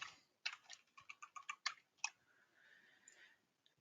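Keys tapped on a computer keyboard in a short burst of about a dozen quick, faint clicks, alone, followed by a soft lingering hiss.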